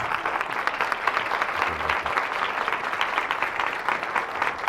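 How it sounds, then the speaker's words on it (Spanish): A large audience bursts into strong, sustained applause to welcome a guest speaker onto a stage, a dense, steady clapping that stays loud and even throughout, with no voices rising above it. "al cual le pido que por favor todos lo recibamos con un muy fuerte aplauso"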